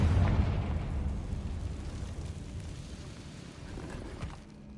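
Confringo explosion spell in Hogwarts Legacy, a low booming burst that hits at once and then decays into a fading rumble with a small late pop, moderately loud in an enclosed room.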